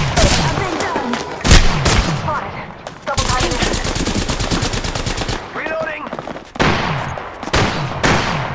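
Gunfire in the Apex Legends video game comes in loud, close bursts of rapid automatic shots separated by short pauses, with a few heavier single blasts mixed in.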